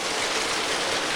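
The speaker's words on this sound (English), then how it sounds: "We needed some rain, and by golly, we're getting it. A real gully washer here." Heavy rain pours down in a backyard in Villa Rica, Georgia, over a pond excavation that is filling with water; a dense, steady, loud hiss of downpour continues throughout with no voices.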